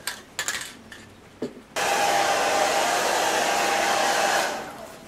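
A hairdryer switches on after a few light knocks and blows steadily and loudly for about three seconds, drying sprayed varnish on a chalkboard, then winds down.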